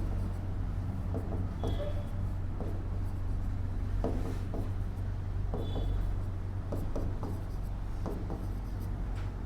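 Marker or chalk strokes scratch across a board during a physics lecture on electric charges, in short bursts of writing with brief squeaks over a steady room hum.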